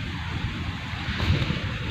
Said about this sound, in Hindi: ये देखिए कितनी ज़बरदस्त सी हवा चलने लग गई है,